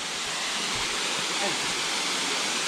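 A waterfall in Ricketts Glen State Park, Pennsylvania, roars as a steady, dense broadband wash of falling water, loud and continuous with no breaks.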